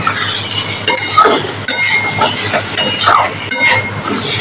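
Spiced potatoes for aloo dum being stirred and fried in a pot, a spoon scraping and clinking against metal in uneven strokes over a low background hum, close and loud.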